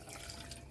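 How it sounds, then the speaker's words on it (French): Water poured briefly into a cooking pot of Malagasy Chinese greens with peanut paste, a soft continuous trickle and splash lasting under a second, close and alone. "J'ajoute juste un tout petit peu d'eau"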